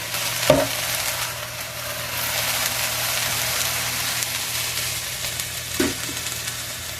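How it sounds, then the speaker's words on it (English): Chicken stir fry frying under a lid in a covered pan, an even, muffled sizzle and soft crackle continuing throughout, with a couple of brief knocks or clinks near the start and end, no voices. "I'm going to go ahead and cover this, let it fry up a little bit"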